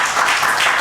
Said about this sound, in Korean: 다 같이 한번 일어나 박수로 환영하겠습니다